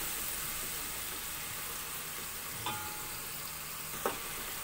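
Masala for chana pulao fries in a pan with a soft, steady sizzle, broken by two brief scrapes of a spoon stirring it, quiet and close with no talk.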